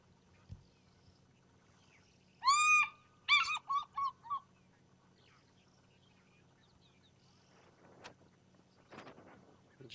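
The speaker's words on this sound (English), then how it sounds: "I just wanted to play that softly into my mic so we didn't annoy this fish eagle." An African fish eagle call played softly from a phone on a morning safari drive at Ngala Private Game Reserve: a loud, ringing, yelping series of one long note and several quick ones. Quiet background hum and faint rustles follow.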